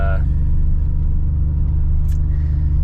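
An old Mercedes-Benz car, bought cheaply and running on old gas, rumbles steadily nearby with a low, continuous engine drone and no spoken voices.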